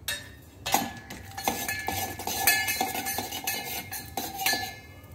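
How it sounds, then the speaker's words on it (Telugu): Cashews frying in ghee in a steel pan on the stove, with a spoon scraping and clinking against the pan in a steady series of metallic taps over a soft sizzle. "नेय्यि वेसुकोनि कोन्नि जीडिपप्पुलु वेयिंचुकोवाली।"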